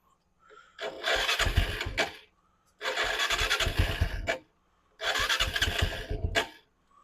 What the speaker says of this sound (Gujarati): આને પણ ચાલુ કરીને બતાવી દઈશ મિત્રો.